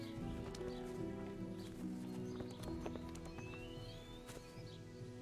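Horse hooves clip-clop in the medieval world of Kingdom Come: Deliverance, a steady, soft patter of steps under a low hum, with a brief whinny and a few distant bird chirps, fairly faint overall.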